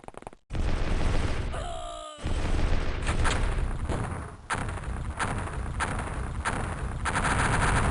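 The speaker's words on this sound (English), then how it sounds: "that's a lot of explosions" Rapid bursts of gunfire and repeated explosions from the OpenXCOM 40K mod game keep up a dense, loud barrage, with sharp blasts breaking through every second or so and only a brief gap near the start.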